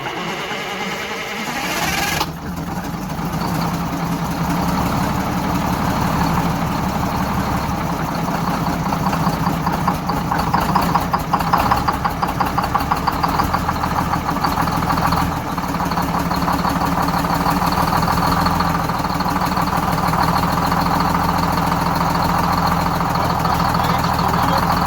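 A bus diesel engine, just back together after an inframe rebuild, cranks briefly and then fires, settling into a steady, loud, rattling idle that runs on evenly with no talk.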